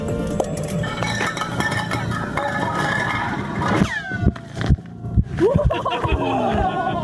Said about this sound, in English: But what does ice sound like?